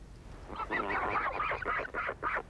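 A lone albatross calls out repeatedly toward passing birds, a series of loud, close honking, nasal cries in rapid bursts, alone with no other voices.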